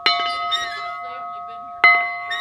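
A bell at Crone's Cradle Conserve, a 700-acre farm outside Citra in Marion County, rings clearly twice, each strike leaving a long bright ringing tone that slowly decays.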